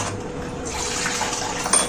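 Water is poured into a cooking pot of ojri, a steady splashing gush that stays loud and continuous with no voices.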